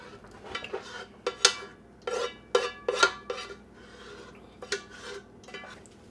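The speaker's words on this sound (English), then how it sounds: "Now we'll just take the back end of our spoon, kind of rub it around in here a little, and we'll get it all going through" Spoon back rubbing cranberry pulp through a metal screen strainer, a series of scraping, rasping strokes with metallic clinks, irregular in rhythm and close.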